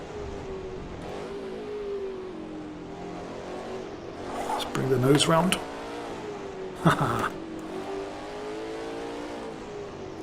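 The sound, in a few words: Ford GT40 engine in a racing video game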